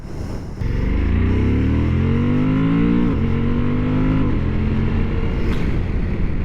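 A 2023 Suzuki V-Strom 1050DE motorcycle pulling away and accelerating hard: loud close engine roar climbing through the revs, a brief dip at a gear change, then pulling strongly again, with steady wind noise throughout.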